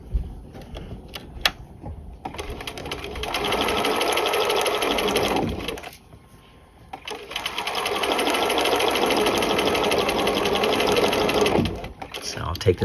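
A sewing machine stitching a self-faced V neckline with gusset runs in two long, steady buzzing bursts, stopping briefly between them, with a few quiet clicks at the start and end.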